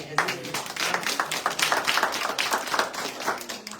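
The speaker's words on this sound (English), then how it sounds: "please give her a round of applause" Audience applause for a presenter at an energy funds meeting, a modest crowd of hands clapping for a few seconds, somewhat sparse and uneven, with faint voices underneath.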